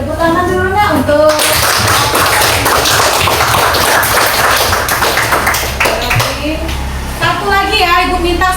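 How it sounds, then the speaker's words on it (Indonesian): A classroom of students claps after a group presentation at an in-service teacher performance test, a burst of close, loud clapping that starts about a second in and fades near the end, with a voice speaking before and after. "Baik, tepuk tangan dulu Nak untuk"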